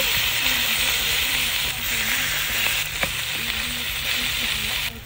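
Bangus sisig frying in margarine on a camping trip, a loud steady sizzle and hiss close by with faint clinks and scrapes now and then; no talking.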